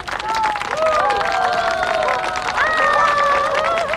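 Wedding guests applaud two newlywed couples at a wedding ceremony, with clapping and cheering under festive music or voices carrying across a hall.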